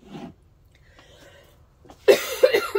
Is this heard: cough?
yes